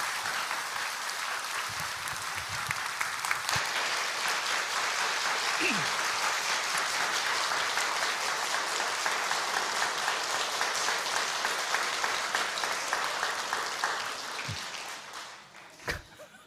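A church congregation at a Sunday worship service claps for the pastor in a long, dense, steady round of applause lasting about fifteen seconds before tapering off, with a few voices at the end.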